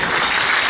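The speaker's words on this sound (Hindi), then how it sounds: "रियली इनके लिए जोर से ताली बजाइए" Applause from an audience at a life management and value education workshop, a steady dense wash of clapping filling the short moment without voices.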